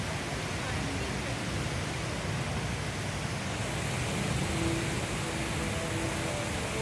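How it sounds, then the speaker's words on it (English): Indoor waterfall at Changi Airport in Singapore: a loud, even roar of falling water filling the space, a constant wash with faint hum and distant murmur beneath, no pauses. "It features the coolest indoor waterfall called the Rainwater."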